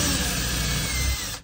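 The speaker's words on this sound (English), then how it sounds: "I'm gonna drill one right here." A power drill bores a hole through a wall during a wood-burning insert installation, a loud, close grinding whir lasting just over a second before cutting off abruptly.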